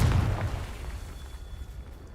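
A Confringo blasting spell goes off in Hogwarts Legacy as one loud, low boom at the start, fading into a rumbling tail and quiet background.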